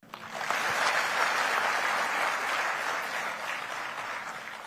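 An audience at a public government event applauds a district collector's birthday, the clapping swelling quickly to a sustained, fairly loud round of many hands and easing slightly toward the end.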